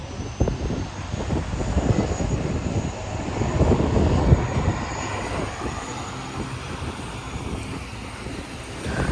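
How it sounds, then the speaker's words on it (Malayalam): An airplane passes over Maho Beach with a loud, rumbling engine roar that swells and then slowly fades, heard alone without talk. "ഒരു ഫ്ലൈറ്റ് അവിടെ നിന്ന് പോകുന്നത് കാണാം ഇപ്പോൾ"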